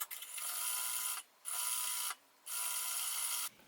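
A sewing machine stitches along a fabric strap in three fast bursts separated by short pauses, a close, buzzing mechanical whir with no talking.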